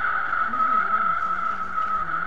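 A car drifting in the Live for Speed racing game, with a steady, loud tire squeal running the whole time over a low engine hum that rises and falls.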